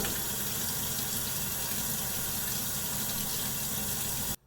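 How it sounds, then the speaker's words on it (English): A kitchen tap runs steadily as hands and a glass are washed, a continuous close rush of water that stops abruptly at the end. "wash your hands and wash a glass"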